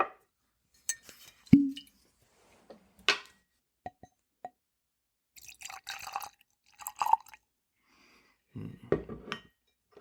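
A bottle of Four Roses OESO bourbon is opened and poured into a Glencairn glass, heard as sparse clinks of glass, a soft pop and brief trickling splashes separated by quiet pauses.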